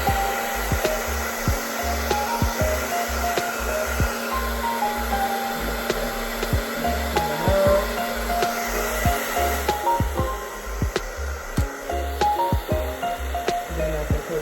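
A hair dryer blows steadily on a wig while it is styled, switching between heat and cool, with a continuous close whooshing hum and faint ticking clicks over the whole stretch.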